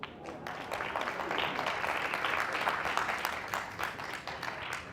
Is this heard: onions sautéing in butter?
no